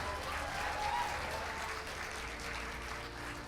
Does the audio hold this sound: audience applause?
yes